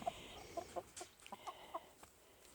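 Black Cochin hens and roosters in a coop give soft, close clucks in a loose, irregular series of short notes, fairly quiet, with no talking.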